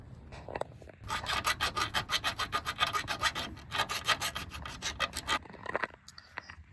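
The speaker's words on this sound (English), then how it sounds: "We did some filing to make sure the bolt went through our frame side mount there nice and freely." A hand file works a hole in a truck's frame side mount, making a quick, regular series of about twenty close rasping strokes, with a few scattered scrapes after a brief pause.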